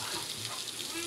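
Beef bones and ingredients for caldereta sautéing in a pan, a steady close sizzle of frying with light stirring, continuous and even throughout.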